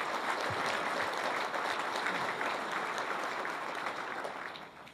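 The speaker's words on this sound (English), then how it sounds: "Let's give them a round of applause for the great work they did." A crowd at a state of the city address applauding steadily, a dense patter of clapping that tapers off toward the end.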